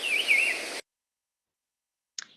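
A racket-tailed drongo mimics the call of a brown-cheeked fulvetta, a babbler, with a short bright whistled phrase that stops abruptly, followed after a pause by one brief faint chirp, heard alone.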